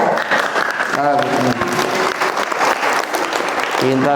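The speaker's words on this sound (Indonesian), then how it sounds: "tepuk tangan dulu, bagus ya" A crowd at an Islamic religious lecture applauds loudly and continuously. Many hands clap together, and brief voices and a few tonal sounds rise above the clapping.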